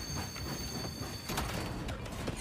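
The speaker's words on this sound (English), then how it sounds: "I'm slowing down their train so we can win." A train rolling along in the Warhammer 40K game Space Marine 2, a steady broadband rumble and clatter of rail movement that holds throughout without pause.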